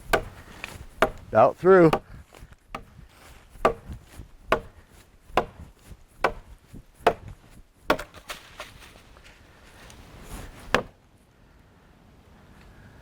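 A butcher knife chops into a standing tree trunk outdoors, sharp woody thwacks in irregular bursts, quick clusters early then spaced single strikes, with a brief voice speaking between blows.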